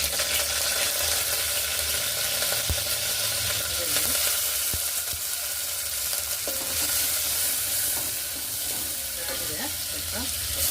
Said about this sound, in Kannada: ಒಗ್ಗರಣೆಗೆ ಇಟ್ಟಿದ್ದೀನಿ, ಅದಕ್ಕೆ ಸ್ವಲ್ಪ ಎಣ್ಣೆ ಹಾಕೋತೀನಿ.